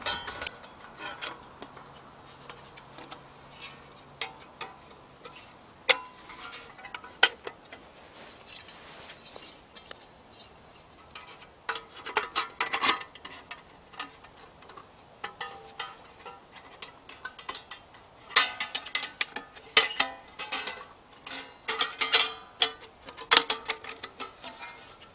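Clicks, taps and rattles of a metal Überleben twig stove being assembled outdoors at a bushcraft camp, close and irregular in scattered bursts, with no one speaking.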